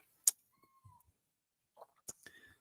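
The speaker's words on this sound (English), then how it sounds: "my cat's throwing a fit for no reason" A house cat throws a fit with a few short, scattered meows and rustles, quiet and intermittent, with a brief sharp clatter between them.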